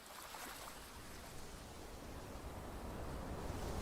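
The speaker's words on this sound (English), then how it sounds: "I heard water. We're hearing wind." Wind and ocean waves heard in a game teaser, a steady, even rush of broadband noise that holds at moderate level for the whole stretch with no voices.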